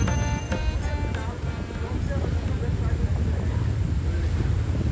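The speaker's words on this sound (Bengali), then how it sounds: "আর এখন আপনারা দেখতে পাচ্ছেন ঢাকা চাঁদপুরের সবচাইতে বড় লঞ্চ ময়ূর 10, যেটা দুপুর 1:30 বাজে ঢাকা থেকে ছেড়ে আসে।" Mayur 10, a large passenger river launch on the Meghna river near Chandpur, rumbles steadily under heavy wind buffeting and water wash, with a few sharp knocks near the start, and no clear talk.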